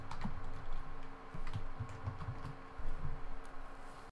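Quick clusters of keystrokes on a computer keyboard, close and fairly quiet, arriving in short irregular bursts with small pauses between them, with no talking.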